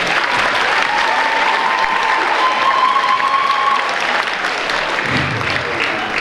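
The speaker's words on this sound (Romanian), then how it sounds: "Sunt aplauze, sper, de apreciere pentru cei 4 ani de liceu pe care i-ați trăit." Steady, dense applause from a large audience at a high school graduation ceremony, loud and sustained throughout with a crowd murmur beneath.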